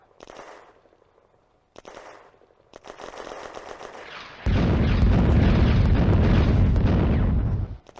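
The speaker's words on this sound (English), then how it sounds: "The Soviet barrage lands without effect." Artillery barrage and machine gun fire on the World War II Eastern Front in the Firefight video game, scattered bursts and shell impacts building into a loud, sustained roar of rapid fire and explosions before cutting off.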